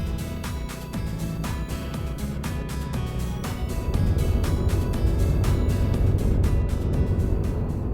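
A Honda Rebel 250 SE motorcycle cruises along a winding expressway with a steady low engine drone and wind rush, growing slightly louder and rougher partway through as the throttle is opened.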